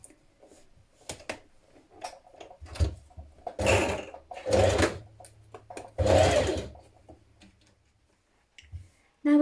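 A sewing machine stitches a flounce onto a blouse in several short bursts of rapid whirring, with quiet pauses and small ticks between runs, close and clear.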